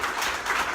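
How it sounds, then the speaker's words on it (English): Brief burst of audience applause at the first comedy show at Rita's Roost in Baxter Springs, a dense patter of clapping heard only for a moment. "Round of applause for Rita's Roost."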